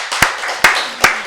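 Three sharp, evenly spaced claps from a church congregation during a Wednesday worship service, each a distinct burst over a low room hum, with no voices.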